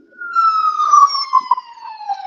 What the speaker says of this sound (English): Wait till the sirens go by.